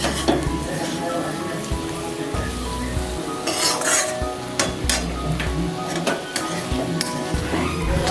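Spice masala for a Bengali lentil-fritter curry stir-fries in a pan, with a steady sizzle and repeated scrapes and stirs of a utensil. The sound is close and continuous, with no talk.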